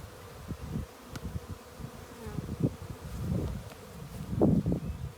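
Honeybees buzzing around a newly set-up hive outdoors, a steady close hum with individual bees droning past, faint rustle underneath and no voices.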